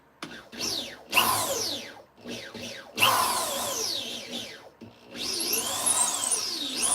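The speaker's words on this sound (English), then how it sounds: "Gotta do that little reaming for the super glue that's going in that hole" A small rotary tool reams a hole in a carved piece before super glue goes in, giving repeated high whining bursts with brief pauses between passes, close and fairly loud.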